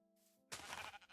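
A sheep in the block-building game Minecraft gives a single loud, close bleat that bursts in after a faint, quiet lead-in and wavers for under a second.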